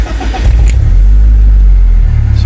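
A BMW Z3 with a differential problem fires up and revs, a loud, close, deep engine roar that swells and holds steady, with wind-like buffeting noise and no speech.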